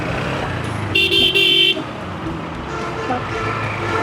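A vehicle horn blares in road traffic, one short sharp blast of under a second, loud and close, over engine rumble and street noise with people talking.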